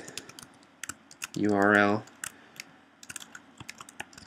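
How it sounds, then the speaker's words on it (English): ActionScript code is typed on a computer keyboard in quick, scattered clicks and taps, close and distinct, with a short spoken phrase partway through. "we'll do that by typing var"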